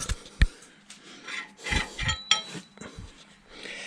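A new valve for a Stickney 7HP hit-and-miss engine is twisted back and forth against its seat, giving short gritty rasping strokes, close and fairly quiet, with small knocks between the rubs.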